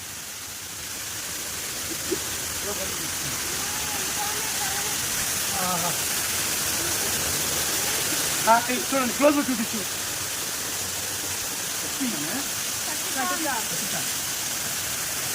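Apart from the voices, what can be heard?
Katiki waterfall rushing water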